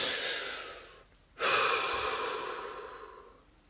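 A deep breath during a relaxation session, a long soft airy inhale, a short pause, then a slow breathy exhale that fades out, close and quiet, no talking.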